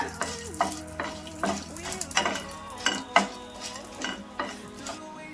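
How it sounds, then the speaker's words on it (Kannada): Green chillies frying with chana dal and urad dal in a pan for paddu, a steady close sizzle broken by repeated scraping and clinking stirs of a spoon against the pan, with no talking. "ಇವಾಗ 7ರಿಂದ 8 ಮೆಣಸಿನ್ಕಾಯಿ ಹಾಕೋತಾ ಇದೀನಿ. ಅದನ್ನ ಒಂಚೂರು ಫ್ರೈ ಮಾಡ್ಕೊಂಡ್ಬಿಡೋಣ"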